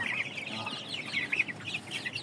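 Tall Shamo chickens clucking and calling in a flock, with repeated mid-pitched clucks and chirps close by over a steady background hum, no talking.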